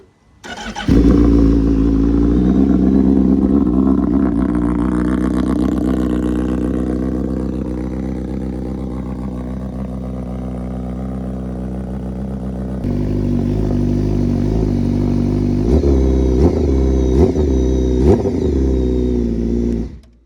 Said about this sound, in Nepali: म स्टार्टअप गरेर देखाउँछु। It is gonna be a cold start, त्यही भएर अति लाउड हुन्छ।